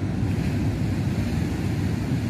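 Surf and wind at Parangkusumo beach form a steady, loud, dense roar of breaking waves mixed with gusty wind buffeting the microphone, with no voices.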